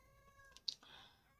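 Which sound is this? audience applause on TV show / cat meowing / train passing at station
cat meowing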